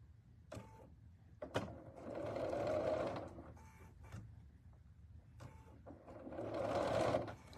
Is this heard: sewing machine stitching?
yes